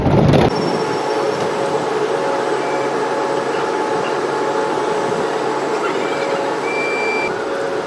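Train sounds at New Jalpaiguri railway station: a steady mechanical rumble and hum of rail machinery fills the platform, with a sharp burst at the very start and faint electronic beeps drifting in later.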